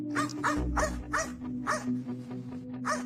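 A pack of dogs barks at an anxious dog kept in a crate, with repeated loud barks in an uneven rhythm over a steady low hum, the barks coming close and fairly near.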